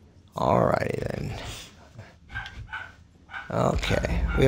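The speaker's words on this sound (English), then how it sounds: "we have a very angry doggy" An angry dog barks and growls loudly in several harsh bursts near the start and again at the end, with quieter sounds between.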